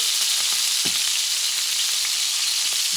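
Butter sizzles steadily in a hot pan beside a petite sirloin steak, a dense, continuous frying hiss with a few soft pops and crackles, close and loud throughout.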